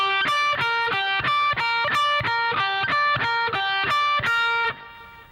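Distorted electric guitar plays a classic-rock arpeggio lick, a quick repeating three-note pattern played twice, with steady evenly spaced picked notes, loud and close, no talking, ending on a held fading note.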